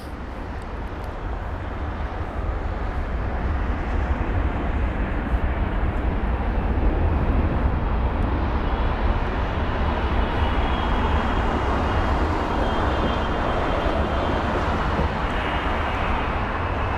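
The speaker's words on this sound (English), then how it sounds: "We've got a very fast approaching aircraft, and that's going to be Kuwait Airways from Kuwait City with the" A Kuwait Airways Boeing 777-300ER jet on approach to London Heathrow, a broad rising engine roar building from a distance into a loud, sustained rumble with a faint whine above it.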